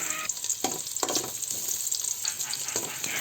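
Sliced onion frying in rendered chicken fat for cull chicken tinola: a loud, steady sizzle and crackle, broken by a few stirring scrapes.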